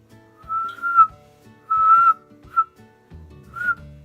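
Quiet human whistling: four short, soft whistled notes with gaps between them, close by and heard alone.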